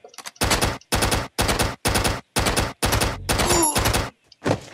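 Shotgun blasts from the Hatchet flash video game fire in a rapid string of about eight loud, broad bursts separated by short gaps, each blast harsh and sustained, with no talking over them.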